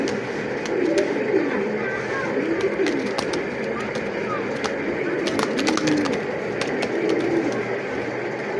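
Racing pigeons, including a quality hen, coo softly in repeated low, rolling calls while someone talks over them in a loft setting.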